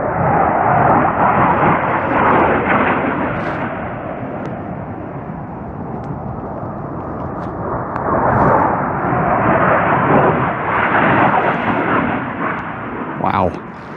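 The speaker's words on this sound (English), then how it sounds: "That sounds like a fighter jet." A fighter jet flying out of sight behind a ridge in Linville Gorge, heard as a sustained broad roar that swells and fades with rushing wind-like noise, moderately loud and distant over open mountain terrain.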